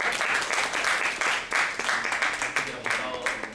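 A crowd applauds steadily, dense clapping filling the whole stretch with slight swells, fairly close and loud, a voice faintly underneath.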